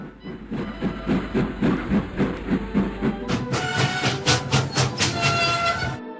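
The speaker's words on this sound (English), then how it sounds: "Just then Henry chuffed in." A cartoon steam locomotive chuffs along rails in steady, rhythmic beats for about three seconds, then gives way to a loud, bright burst of hissing steam and a whistle-like tone near the end. No one talks.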